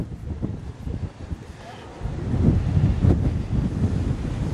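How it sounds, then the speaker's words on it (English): Strong wind gusting across an open lake shore in Port Stanley, Ontario, a steady rushing roar that swells louder in the second half, with soft wave wash underneath. "Ooh, still windy."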